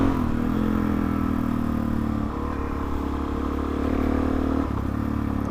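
A motorcycle with a punctured tyre is ridden home, its engine a loud, steady drone with road and wind rumble and a slight shift in pitch partway through.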